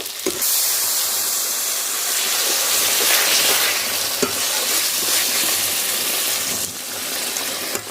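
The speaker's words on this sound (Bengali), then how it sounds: "এবারে আমি সামান্য পরিমাণে" Water poured into frying masala in a pan sets off a loud, steady sizzle and hiss that runs nearly unbroken, with faint stirring scrapes and a brief clink near the end.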